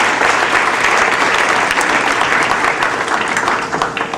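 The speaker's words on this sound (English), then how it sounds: "Clap for Bud Friedman." Audience applause for Bud Friedman at a comedy show, loud and sustained dense clapping from a full room that holds steady for several seconds and eases slightly at the end.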